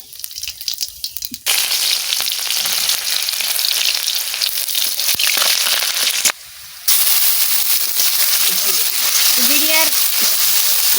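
Whole cumin seeds splutter in hot oil in a kadai, a loud close hiss full of crackling pops that runs steadily with a brief break partway through.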